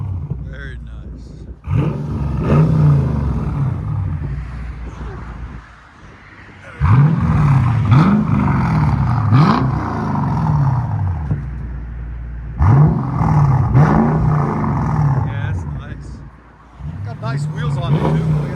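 A straight-piped, supercharged Mercedes CL 55 AMG engine revs loudly and close in repeated swells, each climbing and falling back to a rumbling idle, with a short dip between bursts.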